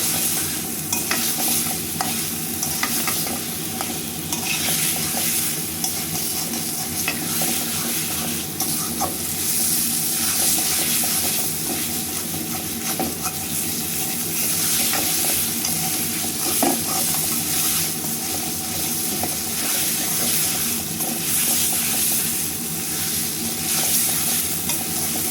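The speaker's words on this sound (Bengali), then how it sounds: "মাছটা কষাইয়া মাছটা তুইলে রাইখে আমি সবজিগুলো কষাবো" Fish and vegetables sautéing in a pan, with a continuous loud sizzle and hiss and frequent scraping stirs, close and unbroken throughout.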